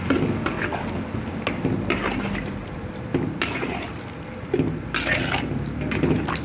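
Tamarind water is poured into a pot of fish curry, a steady close splashing and gurgling of liquid with a few clinks, no voice over it.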